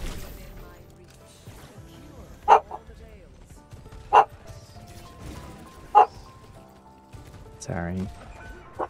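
Puppies bark indoors during an Overwatch 2 gaming session, three separate sharp barks spaced a couple of seconds apart over quiet room noise, with a faint voice in the background.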